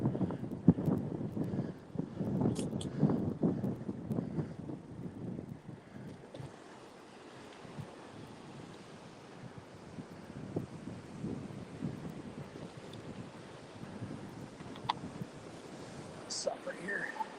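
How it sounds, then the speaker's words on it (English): River water rushing steadily beside a trail about six miles into a hike, with wind buffeting the microphone, a continuous broadband wash under occasional rustling and brief clicks. "I don't know if the water sound is too loud or not."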